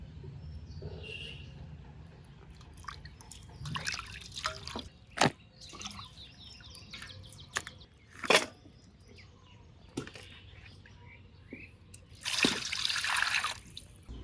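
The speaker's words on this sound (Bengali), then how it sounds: "মাংস ধোয়া হয়ে গেছে" Water trickles and drips while mutton is washed in a home kitchen, with sporadic clinks and splashes and a louder burst of running water near the end, fairly quiet overall.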